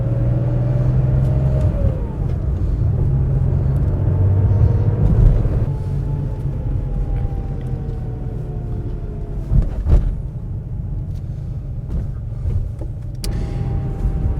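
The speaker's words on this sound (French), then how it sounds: "on va pouvoir faire tout de suite un petit essai routier pour savoir si elle se comporte bien" An older Porsche cabriolet out on a road test, its engine giving a steady low rumble with shifting tones as it accelerates and changes gear, with occasional bumps and road noise and no talking.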